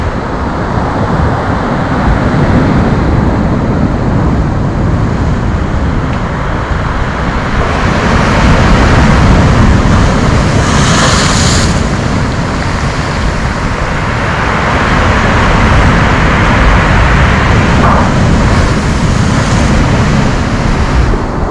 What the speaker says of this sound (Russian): Я посмотрю еще очередной партии больших волн.